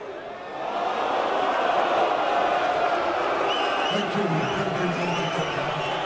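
Darts crowd at a Premier League match swelling into a sustained loud roar of chanting and cheering, with a commentator's voice talking over it.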